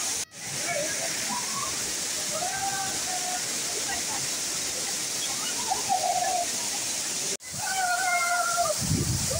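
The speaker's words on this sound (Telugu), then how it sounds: "ఇక్కడ పైనుంచి జాలువారుతున్నటువంటి అద్భుతమైన జలపాతాన్ని చూస్తుంటే" Sirimane waterfall in Sringeri, Karnataka, gives a constant bright hissing roar of falling water. A voice talks over it, and faint bird calls come through now and then.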